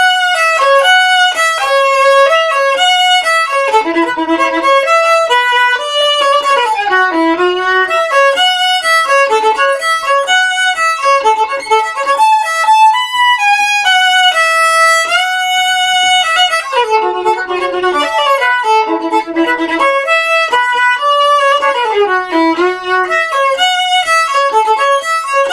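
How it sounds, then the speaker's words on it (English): Solo violin plays the chorus of a piece, a melody in a three-sharp key with quick runs and sustained notes, close and clear with no accompaniment. "the chorus part sounds like this"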